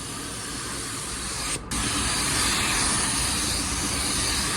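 A spray gun lays a wet coat of paint onto a car bumper, a loud, steady close hiss with one brief break before it continues.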